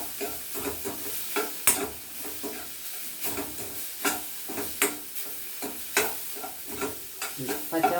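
Garam masala and spices being stirred in a hot pan for chana dal gravy, a soft sizzle under repeated sharp scraping strokes at an irregular, brisk rhythm, close by.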